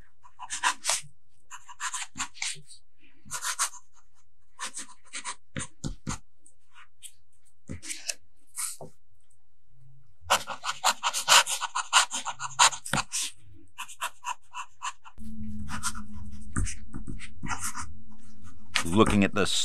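A broad-nib fountain pen scratches across paper in short, close bursts of strokes with pauses between them, and a steady low hum joins in near the end.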